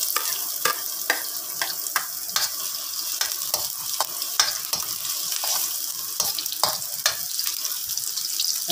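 Ginger and garlic sautéing for frog adobo, a bright steady sizzle punctuated by rapid, regular clinks and scrapes of stirring, close up with no speech.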